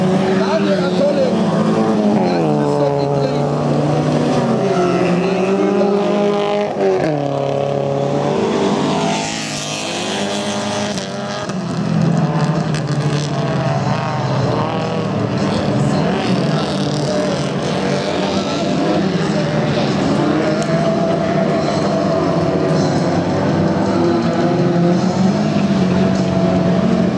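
Class 2 production autocross cars with 1800cc engines race around a dirt track at Mölln, engines droning and revving steadily throughout under near-continuous commentator speech.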